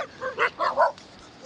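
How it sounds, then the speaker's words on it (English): Several short dog barks in quick succession, fairly close and moderately loud, with brief pauses between them. "Why so many dogs?"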